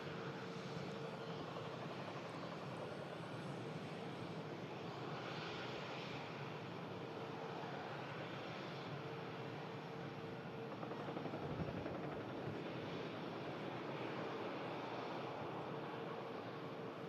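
A Jet2 Boeing 757 lands on runway 23L at Manchester Airport after a hydraulic emergency on its flight from Ibiza, its engines roaring steadily and fairly far off, swelling and easing slightly throughout with no talk.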